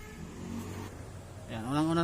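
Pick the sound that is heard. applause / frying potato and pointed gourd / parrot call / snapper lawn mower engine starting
snapper lawn mower engine starting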